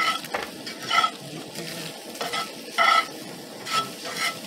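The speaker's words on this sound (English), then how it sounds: "Have our soup spoon here. Start stirring some of this up." Browning food is stirred with a soup spoon in a camp pot at a campground, the spoon scraping in repeated strokes over a soft sizzle, with no talking.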